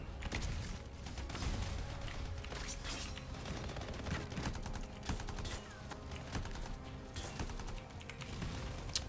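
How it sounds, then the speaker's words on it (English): A pulse rifle fires in rapid, clicking bursts in the video game Anthem, producing a fast, busy mechanical chatter that stays faint and steady throughout. "Oh, this is a pulse rifle."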